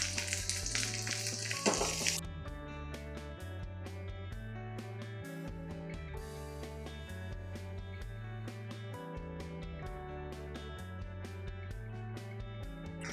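Arbi leaf pakoras fry in hot oil with a faint, steady sizzle. The hiss is strongest at the start and then sinks under quiet background music.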